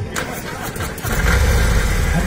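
Motorcycle engine running at a superbike event in Kanpur, a steady low rumble that swells louder after about a second, close by, with crowd noise and counting voices around it.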